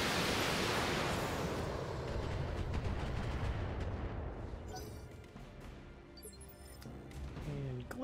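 Mech weapons firing in the Battletech game, a roaring wash of blasts and explosions that opens loud and dense, then slowly decays into rumble with a few sharper clicks near the end.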